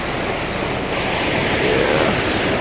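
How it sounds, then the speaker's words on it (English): Ocean surf rolling onto the shore in Portland, Jamaica, heard as a steady, loud wash of breaking waves with wind buffeting the microphone and no talk. "Just the waves."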